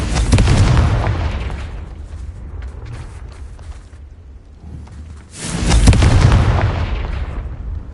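Two Confringo blasting spell explosions from Hogwarts Legacy, each a heavy, close, booming burst with a long rumbling decay, one at the start and a second about five seconds later.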